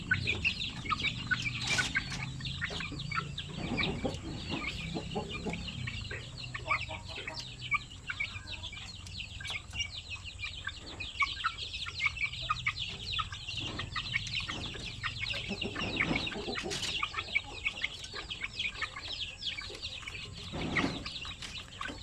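A group of pure Basilan chicken chicks, one to three weeks old, peep and cheep in scattered, repeated calls nearby, with occasional clucks over a steady background.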